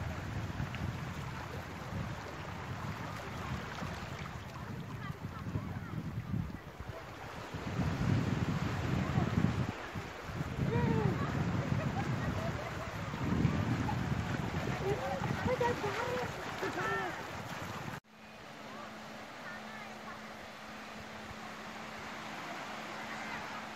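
Wind buffets the microphone while waves wash on a beach on the south coast of Flores. People talk over the surf in the middle portion, and the sound changes abruptly near the end.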